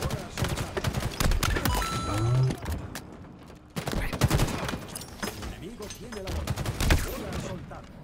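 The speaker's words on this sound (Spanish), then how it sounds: "que aparezco y ya me están disparando" Halo Infinite gunfire in a ranked Oddball match, with bursts of rapid automatic shots and scattered single cracks. It is close and punchy and mixes with game effects, with short gaps between volleys.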